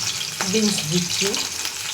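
Beans dropped into a hot frying pan for bread bhujia, a loud, close, steady sizzle with a brief stirring scrape, no voices.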